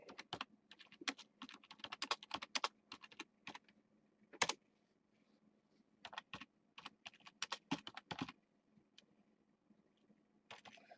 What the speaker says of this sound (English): Sorry, typing for those that can't maybe see me